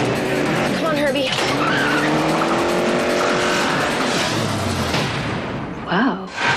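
Herbie the Volkswagen Beetle races in a film scene, with engines roaring and tires squealing loudly through most of the stretch. Voices talk over the action.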